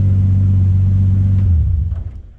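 A Nissan Silvia S14 with an RB25 engine idling cold, a loud, close, steady low rumble that drops in pitch and fades near the end, with no one talking.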